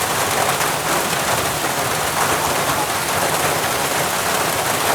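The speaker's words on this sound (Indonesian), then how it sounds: "Karena hujan jadi kita tunggu dulu sampai berhenti hujannya." Rain pours down steadily and loudly outdoors, a dense even hiss with no breaks and no voices.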